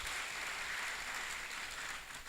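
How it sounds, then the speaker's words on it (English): An audience at a university inaugural lecture breaks into steady applause. The clapping is dense and continuous, sounds somewhat distant, and carries no speech. "Let's give him a round of applause"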